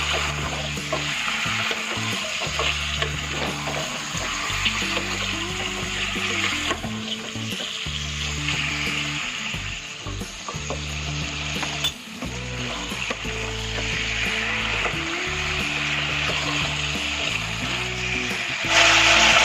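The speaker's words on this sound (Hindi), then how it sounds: "अब मैं चिकन पीसेस को डाल देती हूँ और इसे ऐसे चला लेंगे।" Raw chicken pieces frying in a pan for restaurant-style chicken curry, a loud continuous sizzle with rhythmic scraping and stirring strokes throughout, close up and without talk.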